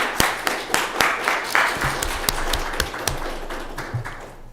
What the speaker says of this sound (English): I think we actually deserve to give you a round of applause for all city councilors.